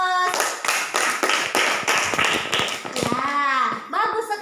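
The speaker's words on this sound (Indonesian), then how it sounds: "Kasih aplaus." Applause from a classroom of students, a burst of many hands clapping briskly and steadily at close range, thinning out near the end as a few voices and cheers come through.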